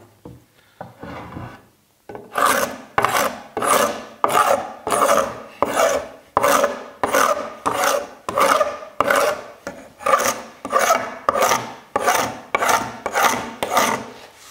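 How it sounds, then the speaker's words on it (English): A regular paint scraper rasps dried glue off a wooden countertop glued up in clamps, about twenty loud, close strokes in a steady back-and-forth rhythm after a few short, quieter scrapes. "It's using a regular old paint scraper to get that dried up glue off."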